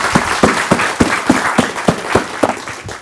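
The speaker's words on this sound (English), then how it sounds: "Give Mark a round of applause for making all this happen" An audience claps for an event organiser in a room with a broadband patter of hands. Sharp, regular peaks stand out, probably a few nearby clappers, over a steady wash of applause lasting about three seconds.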